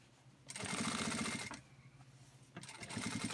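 A Singer industrial sewing machine runs in two bursts, a fast rhythmic stitching whir of about a second each with a short pause between, near and clear.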